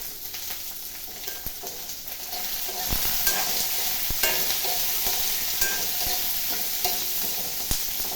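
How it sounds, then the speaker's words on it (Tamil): Onion, green chili and garlic sauté in a pan for a greens thovaiyal, a dense continuous sizzle that swells partway through, dotted with light scraping clicks from stirring and no speech. "நம்ம எடுத்து வச்சுருக்க வெங்காயம் பச்சை மிளகா பூண்டு அதெல்லாம் சேர்த்து வதக்கிக்கலாம்"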